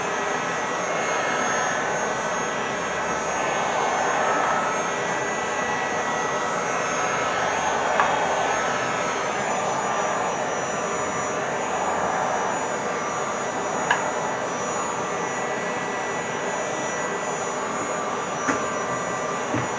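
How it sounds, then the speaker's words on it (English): A heat gun blows hot air onto sound deadening material in a cold garage, making a steady, close, whooshing roar that runs unbroken with a few faint clicks and no talking. "So I can make this real sticky by using this heat gun"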